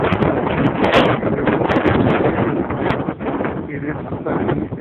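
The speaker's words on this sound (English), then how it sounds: "It is sunny and glorious, but it's also windy as hell." Strong, gusty wind buffets the microphone outdoors on a sunny November day in Colorado, a loud continuous roar with brief surges and no pauses.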